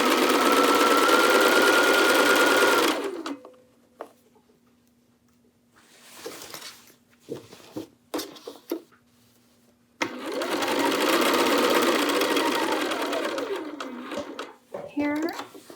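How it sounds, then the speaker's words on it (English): A sewing machine stitches up a side split in two loud, sustained runs, the first about three seconds long and the second about four, separated by a quiet gap filled with handling clicks and light knocks. "Rotate and continue sewing up the side split."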